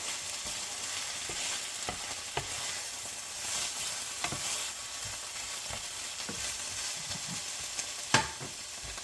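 Chopped peppers sauté in a pot with a steady, soft sizzle and crackle, occasional stirring scrapes and clinks breaking through the constant frying hiss.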